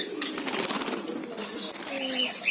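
Soft coos of red and black doves mingle with outdoor bird calls and light fluttering, while people talk nearby.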